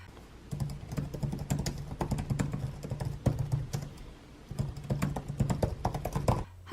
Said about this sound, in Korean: 타건음이 과하게 시끄럽지도 않으면서도 키 트래블이나 촉각 피드백이 만족스럽게 느껴졌습니다.